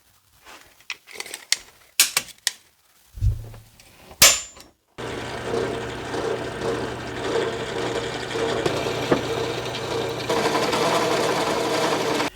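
An electric drill bores a hole in a Mustang drift car's interior, running as a steady, close whirring drone after a few scattered clicks and handling knocks.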